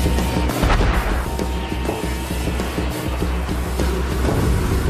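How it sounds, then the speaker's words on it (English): Military howitzer firing on a tank target, heard as a steady, loud stretch of deep booming artillery rumble with repeated low thumps and no voices. "So the spooky crew lock on with the howitzer to take it out."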